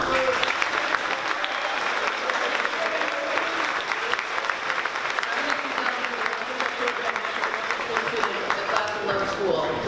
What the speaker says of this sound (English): give them a round of applause for their outstanding contribution to the Laker Corps program